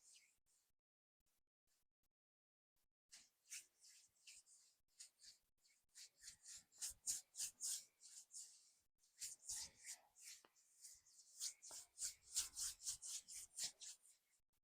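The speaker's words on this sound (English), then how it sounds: "we're going to rub our hands together" Palms rubbing together during a guided meditation, a soft dry rasping in repeated bursts that starts faint and grows steadier and louder, alone without talk.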